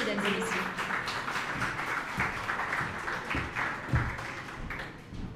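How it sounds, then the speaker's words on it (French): Audience at a Chupa Chups relaunch event applauding as a CEO takes the stage, sustained crowd clapping running the whole time with some voices mixed in. "On l'applaudit, mesdames et messieurs."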